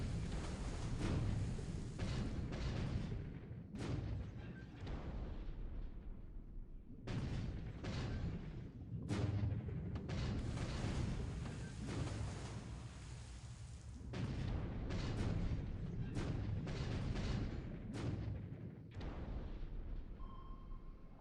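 Type 2 Mod 2 depth charges fired by a destroyer in the War in the Pacific strategy game, heard as a long series of muffled booming explosions at irregular intervals, some overlapping, with a steady low rumble between them.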